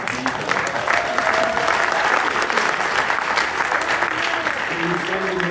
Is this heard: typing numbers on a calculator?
no